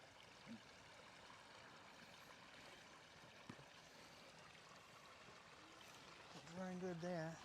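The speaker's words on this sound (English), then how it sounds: "It's a little mini waterfall." Small outdoor waterfall of running water gives a faint, steady trickling wash throughout, with a brief voice near the end.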